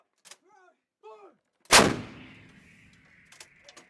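An M777 howitzer fires a single loud, sharp blast that rolls off in a long fading rumble, preceded by short shouted commands from the crew.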